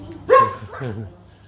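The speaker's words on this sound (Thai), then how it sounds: "นายมันเห่าอยู่ตรงไหนคะ" A single dog bark, a short yelp followed by a lower woof, comes from somewhere overhead at a wine cellar in Vouvray, France, fairly clear with light background hum.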